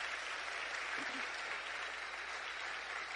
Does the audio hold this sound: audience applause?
yes